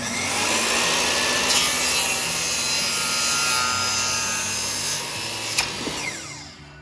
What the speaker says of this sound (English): let's take them to the chop saw and let's miter them into some shape that I can make a frame from.